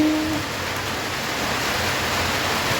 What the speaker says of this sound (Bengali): প্রচণ্ড বৃষ্টি প্রচণ্ড বৃষ্টি